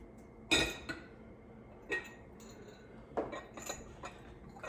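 A large cake dish being handled, a few sparse clinks and light knocks of glass or ceramic against surfaces, quiet and spaced apart.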